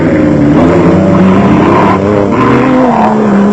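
A Mitsubishi Pajero production-class vehicle races in an off-road event near Tarkastad, South Africa, its engine droning loudly and steadily with shifting pitch as it revs, close and alone without voices.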